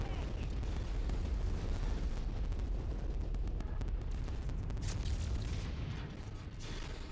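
Missile explosion in the MechWarrior 5: Mercenaries video game, a sustained loud rumbling boom with heavy low roar filling the whole stretch, fading slightly near the end.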